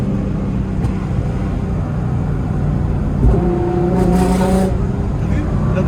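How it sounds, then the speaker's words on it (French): A Nissan GT-R engine rising under acceleration, with a steady rumble and a brief harmonic climb midway, carrying on beneath people talking inside the car. "J'appuie sur l'accélérateur. On entend qu'il y a un truc qui se passe derrière,"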